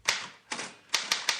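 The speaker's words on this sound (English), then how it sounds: "I'm typing out the reviews." A typewriter clacks out five sharp, close keystrokes in an irregular rhythm, each strike ringing briefly before the next, with nothing else heard.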